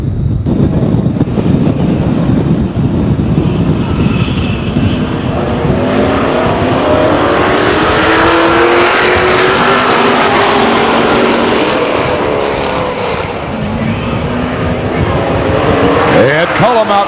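Race cars circling the Stockton 99 Speedway oval during an event in 2000: a loud, continuous engine roar from several cars, with rising and falling pitch as they pass and a sharper whine near the end, under an announcer's commentary.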